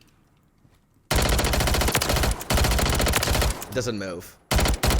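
A loadout weapon fires sustained automatic bursts in the video game Warzone 3, loud and close. Two long strings of rapid shots are split by a brief gap, and a voice speaks a few words over the firing.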